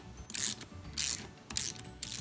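Bolt turned into freshly cleaned, previously damaged threads with a homemade tap, giving four short bursts of metallic ratcheting clicks separated by brief pauses, close and moderately quiet, with no talking.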